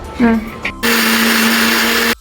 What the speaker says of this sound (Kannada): ಹುಣಸೆಹಣ್ಣು ಹಾಕೊಂಡು ರುಬ್ಕೊಬತ್ತೀನಿ ಇವಾಗ.